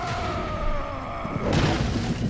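In the video game X-Men Origins: Wolverine, an explosion booms with a deep rumble, followed by a burst of crackling debris noise that carries through the rest of the moment.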